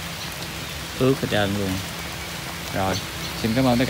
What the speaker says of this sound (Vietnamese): Giờ mình đang quay, mình trời đang mưa luôn nè mọi người ơi.